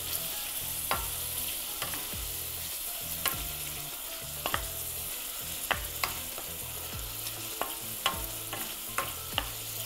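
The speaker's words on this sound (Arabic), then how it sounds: "نمشي نخلط اللحم نقلبه هكذا نقليه مليح" Meat sizzles steadily as it fries in a pan and is stirred, with scattered clicks and scrapes of the utensil against the pan over the constant crackle.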